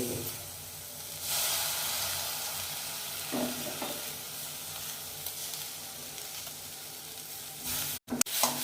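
An onion paratha filling with gram flour sizzles in a pan while it is stirred, a steady close hiss of frying broken by soft scrapes, then a sharp clatter at the very end.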